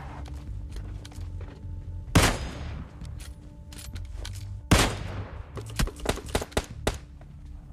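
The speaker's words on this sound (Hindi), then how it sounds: "मेरे को गनशॉट की आवाज आ चुकी थी" Gunfire in PUBG Lite: two loud, sharp shots a few seconds apart, followed by a quicker cluster of fainter shots, over a low background game hum.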